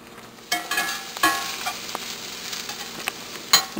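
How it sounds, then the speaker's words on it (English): Onions and peppers browning in a pan, with a soft, steady sizzle and a few sharper crackles and stirring scrapes rising out of a quiet background. "you brown your onions and the peppers"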